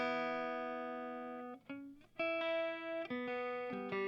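An electric guitar being tuned through an amp, with sustained distorted notes ringing and decaying, then plucked again at shifting pitches as the strings are adjusted, close and clear.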